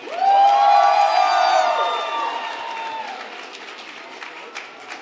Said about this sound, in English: round of applause for Salim